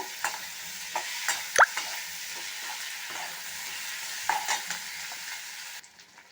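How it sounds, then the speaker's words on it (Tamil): Carrot, tomato, onion and coconut pieces fry in a pan for carrot chutney, giving a steady sizzle broken by several scraping stirs and a couple of louder knocks. "இந்த கேரட்டையும் தக்காளி வெங்காயத்தோடு நம்ம சேர்த்துணும்"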